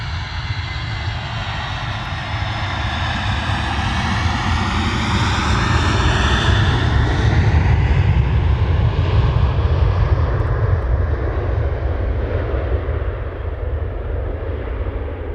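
A Ryanair jet airliner on its takeoff roll at Manchester Airport, a loud, steady engine roar with rising and falling tones as it accelerates, heard alone.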